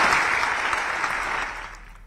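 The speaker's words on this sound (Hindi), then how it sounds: "जरा जोरदार ताली बजा करके।" Crowd at a political rally in Madhya Pradesh bursts into loud, dense applause that gradually fades toward the end, with no talking over it.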